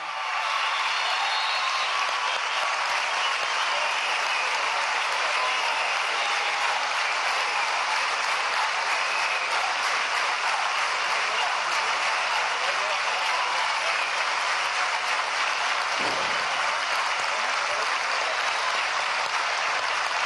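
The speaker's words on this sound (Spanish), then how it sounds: "para brindar un fuerte aplauso a nuestro gobernador electo, Antonio Primitivo Cedeño." Long, dense, steady applause from a large standing crowd at the swearing-in ceremony of the governor-elect of Portuguesa, continuing unbroken for about twenty seconds.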